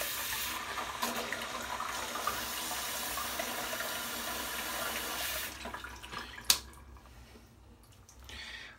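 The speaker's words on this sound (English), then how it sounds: "let's get the brush wet and start loading" Tap water runs in a steady broad rush while a shaving brush is wetted, then cuts off, leaving a few small splashes and clinks near the end.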